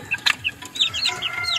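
Backyard chickens, reportedly sick with colds, cluck in a series of short, close calls with brief gaps, alone without talk.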